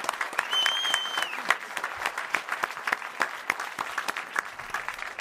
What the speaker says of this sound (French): Je vous demande d'applaudir Léa Drucker et Michael Youn.